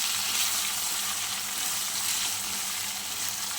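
Chicken fries with chili flakes in a pan for chili chicken, a dense, even, close sizzle with light stirring throughout and no pauses.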